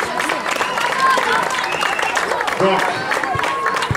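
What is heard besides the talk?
crowd applauding a children's team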